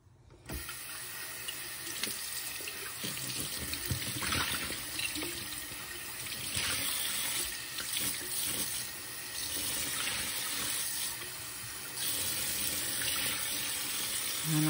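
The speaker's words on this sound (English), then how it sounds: "And then after one good rinse, it'll be nice and clean." Oil painting tools are rinsed under a running tap at a sink, a steady close stream of splashing water that continues for about fifteen seconds with small shifts as the tools move under it, no speech.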